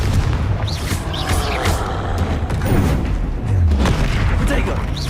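A Confringo spell blast in the Hogwarts Legacy video game, with booming explosive impacts over a dense, continuous battle din of rumbles and crackles.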